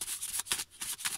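Tarot cards being handled and shuffled by hand, a run of papery riffles and flicks in quick bursts with brief pauses between them, close and fairly quiet.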